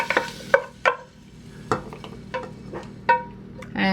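Minced garlic sizzles gently in an oiled pan for Spam fried rice, broken by several sharp scrapes and clacks of a utensil stirring against the pan, close and fairly quiet.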